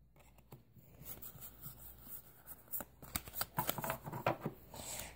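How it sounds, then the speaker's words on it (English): Paper tearing and crinkling as a Pokemon code card is pulled from a booster pack, a run of sharp scratchy rips and rustles growing busier toward the end, close and fairly quiet. "I can't get the card like this, I'll have to rip it"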